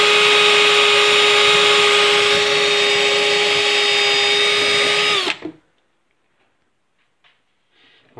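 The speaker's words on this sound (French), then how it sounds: "On va venir percer." A power drill bores a hole at close range with a loud, steady high whine for about five seconds, then cuts off abruptly, leaving near silence with a few faint knocks.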